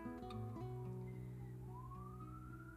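A wailing siren rises and falls, steady and fairly faint as if from outside, with a thin whistle-like tone sliding upward near the end.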